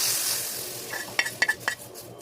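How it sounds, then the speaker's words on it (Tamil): Dried turkey berries (sundakkai vathal) frying in hot oil for a spicy tamarind kuzhambu, a soft steady sizzle with a few sharp crackles and stirring clinks near the end, close and alone. "எண்ணெய் கொஞ்சம் நல்லா சூடாகட்டும். சுண்டை வத்தல் நல்லா வதங்கட்டும்."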